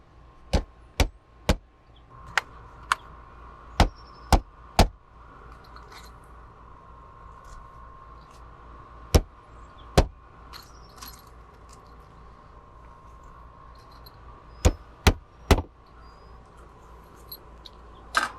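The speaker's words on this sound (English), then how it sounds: "Now we'll just hammer the anchors in there" Sharp metallic knocks from hammering wall anchors in to mount a self-retracting hose reel, heard as a quick cluster of strikes, then two, then another short burst, close and fairly loud over a quiet background hum.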